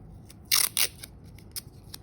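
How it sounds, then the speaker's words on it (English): A couple of quick ripping tears of tape pulled from a roll, close and crisp, followed by a few faint clicks and rustles in a quiet room. "I'm going to get a couple pieces of tape"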